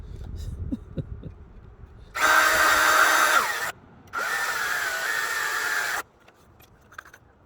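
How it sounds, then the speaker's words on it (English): A power drill whirs in two steady bursts, each lasting over a second with a brief pause between, fairly close and loud. "I wouldn't be using this drill if there weren't a threat of rain"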